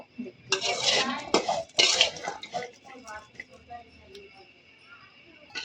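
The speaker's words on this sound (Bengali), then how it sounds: "মরিচ ভর্তার জন্য এখন আমি মরিচগুলোকে সুন্দর করে টেলে নিব" Green chilies dry-roasted in a pan, with loud clattering and scraping as they are tossed against the metal, then quieter light taps and rattles.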